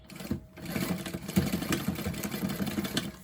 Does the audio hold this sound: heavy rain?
no